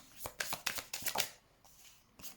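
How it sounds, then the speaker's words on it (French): Tarot cards being shuffled and laid down during a French love reading, giving a quick run of close, crisp papery flicks and slaps followed by a quieter pause and one last soft snap. "Je vais mettre une dernière carte."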